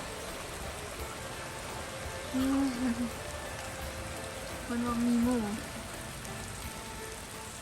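Steady rain falls outdoors on a day of nonstop downpour, a constant close hiss and patter, with a voice speaking briefly twice over it.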